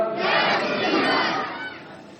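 A large religious gathering roars a slogan in unison during an Urdu sermon, a dense, loud mass of voices that swells and then fades after about a second and a half.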